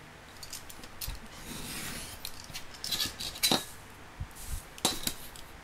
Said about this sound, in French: Alors, une règle et un cutter qui est, je l'avais pris tout à l'heure. On va prendre. Donc là, je vais couper.